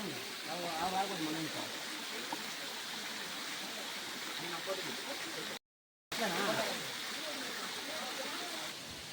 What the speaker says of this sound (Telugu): నేనైతే ఎంతో కష్టపడి రాళ్ళు చెట్లు అన్నీ ఎక్కి దిగి మొత్తానికి జలపాతానికి అయితే చేరుకునేసాను.